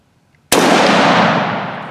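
A Ruger Mini-14 rifle fires a single loud, sharp shot at an outdoor range, with a long echoing tail that fades slowly after the crack, alone with no talk.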